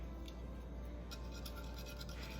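Salisbury steak mixture with onion whisked in an overfilled bowl, a steady scratchy rubbing that runs on quietly without pause.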